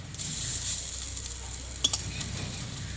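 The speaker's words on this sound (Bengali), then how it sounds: "এই বড়াগুলো কিন্তু এক পিট ভাজা হয়ে গেছে আমি এইবার উল্টিয়ে নেব এইভাবে" Red lentil fritters sizzle steadily in hot oil as they are turned over, a constant close crackle broken once by a quick metallic clink of a utensil.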